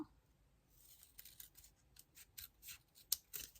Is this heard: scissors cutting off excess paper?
yes